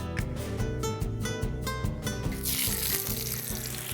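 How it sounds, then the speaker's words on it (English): Hake sizzles while frying in an olive oil blend, a hissing crackle that grows louder and denser partway through, under steady background music. "I'm frying it in the Olive Pride blend"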